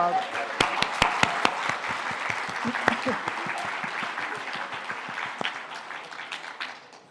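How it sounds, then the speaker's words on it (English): Audience applause at the SIRCC Awards 2019, with a few sharp, loud claps up close over a broader crowd clapping that tapers off toward the end. "let's give them another round of applause"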